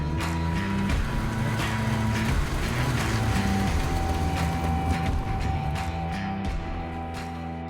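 A 650 snowmobile roars past at speed, its engine loud and sustained with a shifting pitch that fades slightly toward the end as it moves away.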